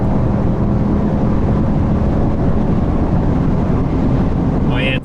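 A Porsche Panamera accelerating hard on a three-lane German Autobahn after a downshift, heard from inside the car as a loud, constant engine and road roar with heavy wind rush.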